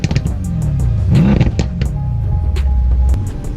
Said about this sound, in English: I turned it on and I revved the engine a couple of times.